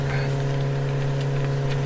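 A motorcycle engine runs with a steady, close mechanical hum and faint idling rattle, continuous and alone for a couple of seconds.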